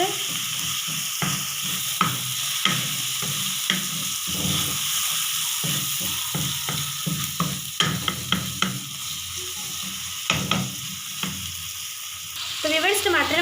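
Tomatoes sizzle and soften in a hot pan for sago khichdi. A steady frying hiss runs throughout, broken by frequent small crackles and soft stirring scrapes, with no one talking.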